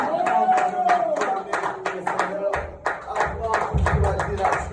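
A church congregation clapping in a steady rhythm during a sermon in Rouen, sharp close claps repeating evenly, with voices singing and talking along underneath.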